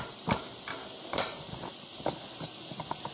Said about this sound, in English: I'm not getting too close because that's hot steam.